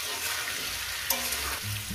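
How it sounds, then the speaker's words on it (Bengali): Salted bhetki fish fries in a pan with a steady, bright sizzle, punctuated by a light clink near the middle. "দিয়ে আমি এটাকে প্রায় 5-6 মিনিট আমি এভাবে একটু ভেজে নেব।"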